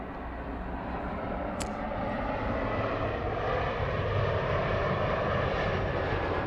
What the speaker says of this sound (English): All right, there goes the 767.